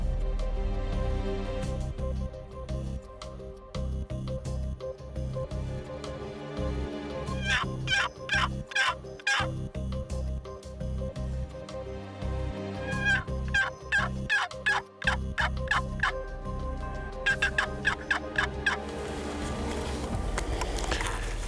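Wild turkeys on a ranch gobble repeatedly from under trees roughly a hundred yards off, the loud rattling calls coming in bursts over steady outdoor background noise.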